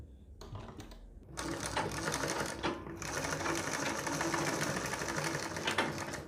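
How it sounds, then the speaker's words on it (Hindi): Sewing machine stitching the neckline of a kurti: a few short stops and starts, then a continuous close whirring chatter of rapid needle strokes at an even pace, briefly pausing before running on steadily. "नीचे दबाते हुए सिलाई लगाएंगे।"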